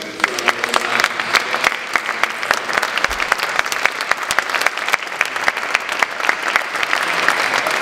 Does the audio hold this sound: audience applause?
yes